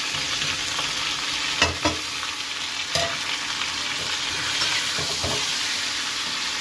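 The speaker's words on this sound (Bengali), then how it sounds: "একটু কমিতে নাড়াচাড়া করে নিই মশলাগুলো একটু নাড়াচাড়া করে নিই" Potato and cauliflower fry in oil with chili, turmeric, coriander and cumin powders, a continuous close sizzle broken by a few distinct knocks and scrapes of a spatula stirring the pan.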